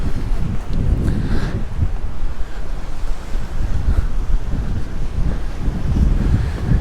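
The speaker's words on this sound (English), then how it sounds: "it was so windy" Strong wind buffets the microphone by the sea at Palmanova, Mallorca, a loud continuous roar with gusty low rumbles and waves faintly underneath, with no talking.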